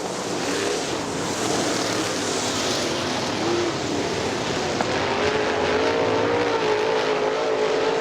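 Late model race cars roar around Butler Motor Speedway in a steady, loud engine drone, with a rising engine whine coming through near the end and no talk over it.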